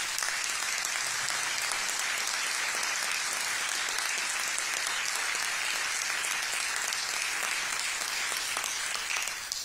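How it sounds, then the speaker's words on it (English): A town meeting audience gives a full round of applause, dense steady clapping from the crowd lasting throughout, with no talk over it. "Can everybody give them a round of applause?"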